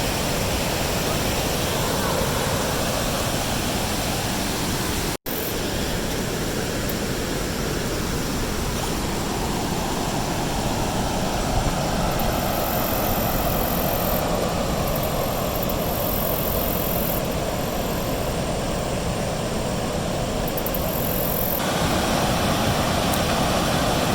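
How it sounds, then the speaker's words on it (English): Powerful rushing water roars continuously and loudly at a lock on the Muskingum River, a broad steady wash of noise with no pauses. "the water noise is probably going to get a little bit much for a good video"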